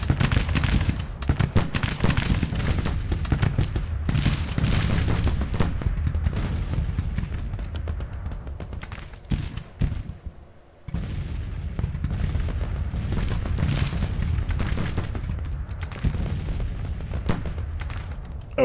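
Artillery battery in the Grand Tactician: Civil War video game fires continuously, with dense booming cannon blasts and rumbling reports, a brief lull near the middle, then the barrage resumes.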